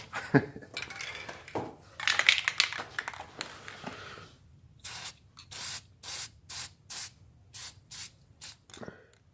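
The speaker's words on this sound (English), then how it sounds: "just go ahead and spray and not worry about what I'm overspraying on" A spray paint can hisses in a string of short, even bursts onto a utility trailer gate latch after some clattering and rubbing, close up and moderately loud.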